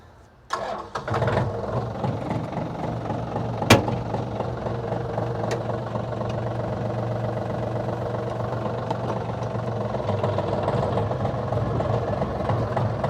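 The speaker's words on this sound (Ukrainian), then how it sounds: "Двигун працює рівно, без нарікань." A Yanmar RS24 tractor's diesel engine cranks over, catches and settles into a steady, loud idle that runs continuously with a low rumbling drone.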